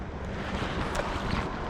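Strong wind buffets the microphone on a fishing boat on rainy water while someone fishes for white bass, a steady broadband roar with slight gusting surges.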